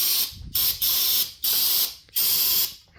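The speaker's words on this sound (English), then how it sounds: "I'm going to spray some starter fluid." Starter fluid sprayed into a Suzuki GSXR 750 K7 engine during a no-spark diagnosis: loud, close aerosol hissing in several bursts of about half a second each, split by short pauses, with no talking.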